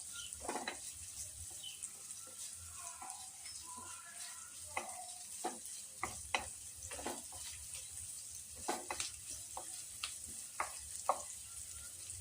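Onions fry in a pan for a ridge gourd stir-fry, giving a soft, steady sizzle broken by occasional spatula scrapes and light clinks, with no talking.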